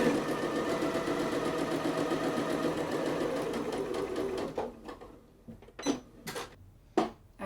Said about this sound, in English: this fabric with a regular straight stitch and the regular machine